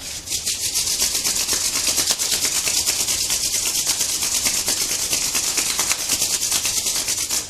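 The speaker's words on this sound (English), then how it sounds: "Now bring your palms together, rub them to generate heat." Palms rubbed briskly together to build warmth during a yoga session, a steady, close, continuous dry friction hiss lasting throughout with no pauses or voices.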